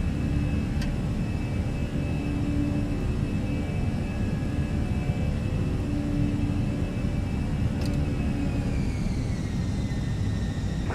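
An airliner taking off at Gimpo Airport gives a steady, loud, broad engine roar with a deep rumble, sustained throughout, with faint tonal whines shifting near the end.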